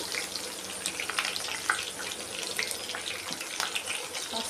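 Onions and green chilies sizzle in hot oil in a tempering, a continuous close hiss dotted with small crackles and pops.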